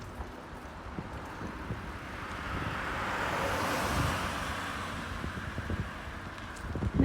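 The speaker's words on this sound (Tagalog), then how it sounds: "ayan dagat yan" Sea waves on a Danish beachfront wash in a soft, continuous rush that swells and fades, with wind buffeting the microphone.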